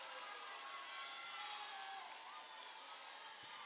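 Steady crowd rumble fills a gym during a 2019 girls high school volleyball match between the Lancers and North Andover: a broad, continuous murmur of many voices with scattered shouts, holding an even level throughout.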